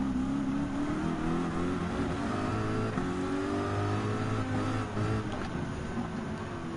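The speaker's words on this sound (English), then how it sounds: "there's the next Group 3 car before coming down on Sector 3. Volkswagen Beetle Group 3." A Volkswagen Beetle Group 3 race car engine in Gran Turismo 7 drones steadily at high revs, with tonal harmonics that climb and shift through gear changes.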